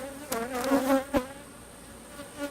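Honeybees drone around an open, healthy beehive, a close, steady buzz with a few louder passes as individual bees fly near.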